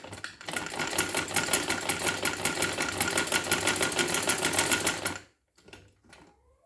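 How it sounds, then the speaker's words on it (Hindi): A sewing machine stitching a neckline runs in a fast, steady mechanical rattle for about five seconds, close and loud, then stops, leaving a few faint handling clicks. "ये देखिए, मैं सिलाई करने जा रही हूँ"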